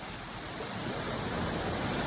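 Strong ocean surf from a storm roars at Amper Beach as a continuous wash of crashing water, swelling louder toward the end, with wind buffeting the microphone.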